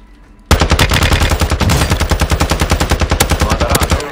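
Rapid automatic gunfire in Warzone 2 striking the player, a sudden loud burst of evenly spaced shots that continues without pause for several seconds, close and dominant.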